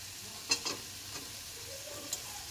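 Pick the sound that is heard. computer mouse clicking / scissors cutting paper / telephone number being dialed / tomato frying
tomato frying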